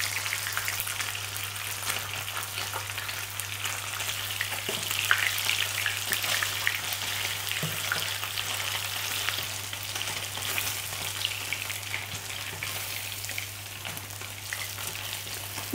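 Steady, close sizzling and crackling of salmon strips frying in oil, with occasional soft scraping of a utensil and a faint low hum.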